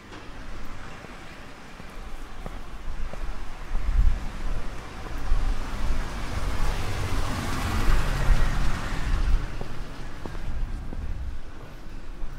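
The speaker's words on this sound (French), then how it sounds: "une voiture qui vient dans notre direction, une voiture qui va, attention, faire du bruit." A car approaches at night on a street in Bourgoin-Jallieu and rolls past nearby, its engine and tire noise swelling then fading, with wind rumbling on the microphone.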